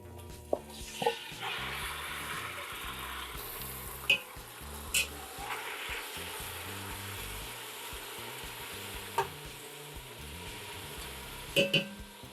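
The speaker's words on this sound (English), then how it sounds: "You just want to get it high enough to get a nice sizzle." Steady, close sizzling of chicken frying in a hot pan, with a few sharp scrapes and taps of a utensil.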